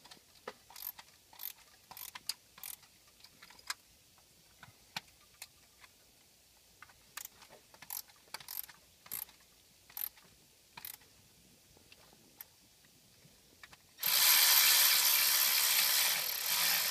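Bolts tightened with a ratchet on the EGR cooler of a Ford 6.0 Powerstroke diesel: quick bursts of close ratchet clicks with pauses, then a sudden loud, steady rushing noise near the end.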